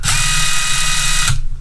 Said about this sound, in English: Says quarter-inch impact, cordless impact driver, type 1